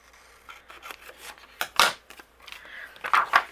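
Scissors trim patterned paper for card making, heard as a series of close, crisp snips and rustles, with several sharper cuts near the end.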